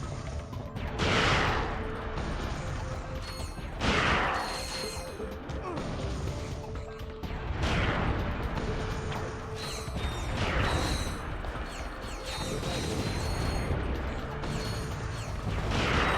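Grenade launcher explosions in Ratchet & Clank 3: Up Your Arsenal, a dense, loud barrage of booming blasts and crashes repeating every couple of seconds, layered over constant mechanical game clatter.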